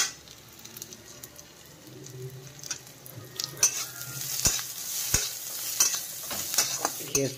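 Onions frying with cumin powder in a pan for a besan sabji, heard as a soft sizzle that builds to repeated sharp spatula scrapes and knocks against the pan, close and without speech.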